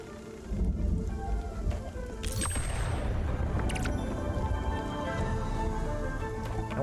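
Lightning storm in the video game Spiritfarer: steady soft rain with a sharp thunder crack midway, rumbling on faintly beneath the downpour.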